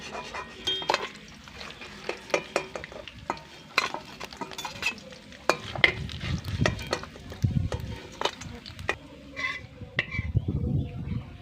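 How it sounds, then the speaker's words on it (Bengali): Fish head frying crisp in oil in a pan, crackling sizzle under repeated sharp metal spatula scrapes and clinks as it is stirred and turned, close and busy throughout. "মাছের মাথাটাকে আমি বেশ কড়া করেই ভেজে তুলে নিচ্ছি।"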